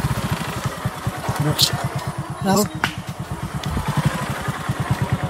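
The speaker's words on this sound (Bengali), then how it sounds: "যাই হোক, এখন বাইকে উঠে চলে যাচ্ছি। দোয়া করবেন যেন বাইক থেকে আবার না পড়ে যাই।" A motorcycle travels a rough rural road in Gotashia union, Monohardi upazila, its close engine putting out a steady, fast pulsing beat with rattles and clatter from the bumpy surface, while a voice is briefly heard.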